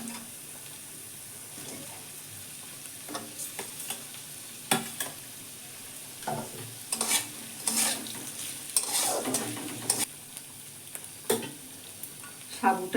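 Sabudana pulao with potato being stirred in a pan, close spatula scrapes and clatters in irregular bursts over a faint steady sizzle, with no talk.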